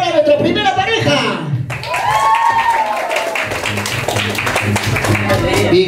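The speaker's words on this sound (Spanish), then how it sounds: "¡Palmas y gritos para nuestra primera pareja!" At a child's first birthday party, the audience claps and cheers for a couple, with lively applause and whoops mixed with loud talking and background music.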